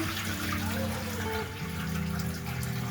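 Starchy water drains from soaked potatoes in a kitchen sink while making bhajia, a continuous rushing, gurgling flow that stays steady and fairly loud throughout.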